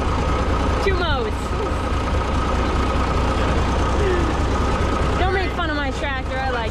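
An IH 1066 tractor engine runs steadily at a constant low rumble throughout a field outing, with bird chirps and faint background chatter layered over the continuous drone.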